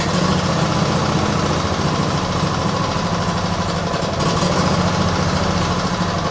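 A cold engine with an automatic choke idles steadily and loudly up close, a constant low rumble with a slightly uneven, lumpy beat and no talk over it.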